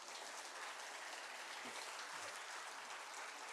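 Applause from a church congregation at a Friday service: steady, dense clapping that fills the room without a break, heard from some distance and at a fairly low level, with a faint voice briefly underneath.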